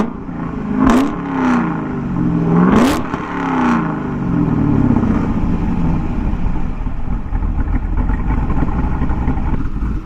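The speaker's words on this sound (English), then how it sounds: "Rev it up a couple of times." A 408 cubic inch LS V8 fitted with a Summit Racing Pro LS 8722R1 cam is blipped twice with sharp revs, then settles into a loud, lumpy, choppy idle that rumbles on close by.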